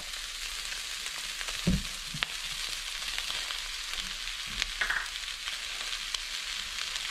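Lobster meat frying in a pan seasoned with black pepper, a steady low sizzle throughout with a few louder stirring clatters and scrapes near the start and around the middle, no voices.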